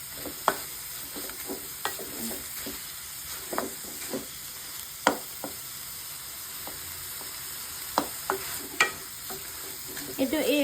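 Chicken fries in a pan with a steady sizzle while a spatula stirs it, scraping and tapping irregularly against the pan.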